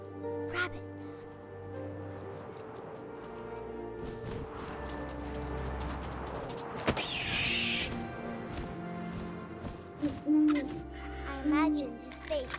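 Owl hoots sound amid wind and ambient noise in the video game What Remains of Edith Finch, with a sharp knock and scattered rustles, while someone narrates over them.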